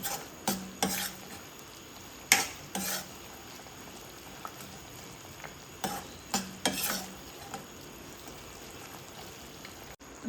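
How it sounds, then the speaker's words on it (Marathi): Jaggery melting in hot oil in a pan over a medium flame, stirred with a spoon: soft sizzling and bubbling under intermittent scraping strokes of the spoon, close and fairly quiet, with no voices. "गुळ तेलामध्येच आपोआप विरघळतं गुळ विरघळेपर्यंत जरा ढोळून घ्यायचं आहे"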